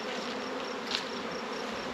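A small honeybee swarm at a hive being loaded into a resource hive makes a soft, steady insect buzz throughout, fairly faint and without talk.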